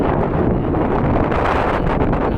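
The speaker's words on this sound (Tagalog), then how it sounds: "Yung itip na naman ng dagat, guys. Ayan. Yung hangin." Strong wind gusts buffet the microphone in a continuous, loud roar with no voices, like an exposed open-water setting.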